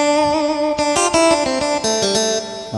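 A Korg PA1000 keyboard plays a xến-style sample voice, a bright, reedy melodic tone with a short run of notes that bend and shift pitch, heard clearly with no talking over it.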